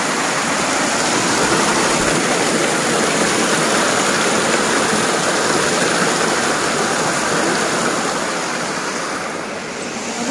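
Water pours steadily from a spring in a hill village, a loud, continuous close rush with no breaks.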